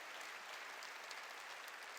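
A church congregation claps during a sermon, a faint, distant wash of steady, continuous applause with no voices on top.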